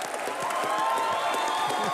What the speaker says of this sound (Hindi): वो अनिल सर के लिए और रणवीर के लिए तालियां।